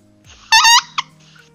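A musical straw duck call, bitten and blown, gives one short, buzzy, reedy quack-like honk followed by a tiny second blip in a quiet room.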